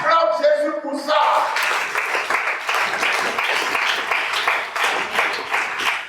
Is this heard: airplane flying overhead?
no